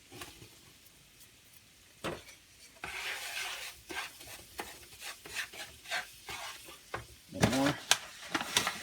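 Sausage gravy being stirred in a pan, quiet at first, then steady sizzling with repeated scraping strokes of a utensil against the metal, growing louder and busier toward the end.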